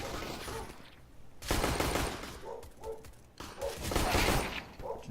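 Counter-Strike gunfire crackles in dense, loud bursts of rapid automatic shots, with a quieter gap between volleys and several overlapping exchanges of fire.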